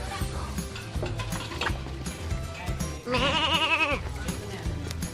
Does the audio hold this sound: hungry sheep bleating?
yes